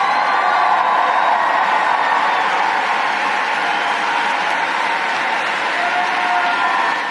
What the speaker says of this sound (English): Notice how long this applause is.